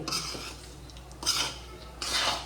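A spoon scrapes and stirs flour through hot ghee in a metal pan, three rhythmic bursts of gritty scraping with quieter pauses between, close and alone.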